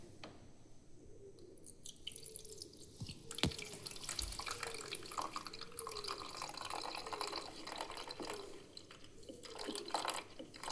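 Bubble liquid is poured steadily into the tank of a 3-in-1 bubble and fog machine, a continuous close gurgling stream with small sloshes and drips and no voices.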